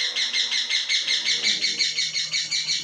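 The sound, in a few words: parrot calling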